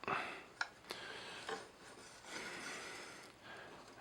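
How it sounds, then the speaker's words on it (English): A mount is screwed into the rear of an AVTECH AVN80X IP camera, giving soft rasping, rubbing turns with a few sharp clicks, close and quiet, with no talk. "it's a matter of just screwing it in to the rear of the camera"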